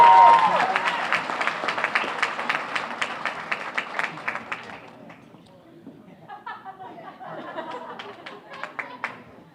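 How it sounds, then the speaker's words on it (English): A room full of people applauds at the Revere Chamber of Commerce Awards 2023 ceremony, with dense rhythmic clapping that fades after about five seconds into softer crowd murmur and scattered claps. "Round of applause"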